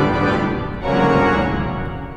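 A brief, loud burst of an Austin pipe organ's swell division with a 16-foot stop drawn, rich sustained full chords with one quick change of harmony partway through.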